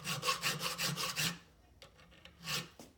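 A hand file works the spine of a knife blade in quick rasping back-and-forth strokes, about seven in a fast run, then a pause and a few lighter strokes, close and alone.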